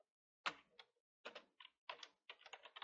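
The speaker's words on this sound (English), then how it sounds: "So I will type namespace" Keys clatter on a computer keyboard in short bursts of quick, close taps with brief pauses between groups, quiet and alone.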